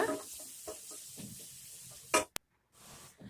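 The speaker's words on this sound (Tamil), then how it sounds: "அப்புறம் வெங்காயம் வந்து இந்த மாதிரி நீல வாக்கில் கட் பண்ணி போட்டுக்கோங்க" Sliced onions fry in a pan with a soft sizzle as a few scrapes and light clatters of stirring come through. A sharp click is followed by a short near-silence before the gentle frying noise returns.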